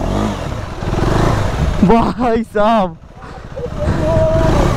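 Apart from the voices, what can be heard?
KTM Adventure 390 motorcycle revving at full throttle off-road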